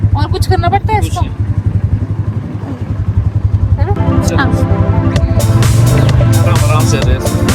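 A motorcycle engine on a mountain road in Himachal is revved with the throttle, a loud, close rumble that builds into sustained revving, while a person speaks over it.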